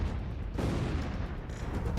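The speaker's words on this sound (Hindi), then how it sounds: "रूसी सेना तोपों से फटाफट गोले दाग रही है" Russian artillery guns fire shells in rapid succession in Ukraine, with deep booms that roll into a sustained rumble, one sharp blast standing out midway, loud and fairly close.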